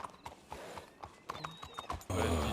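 Horse hooves clip-clop in a steady, moderately close series of hoof strikes, with a short whinny partway through and a louder burst of broadband noise near the end; no talk over the hoofbeats.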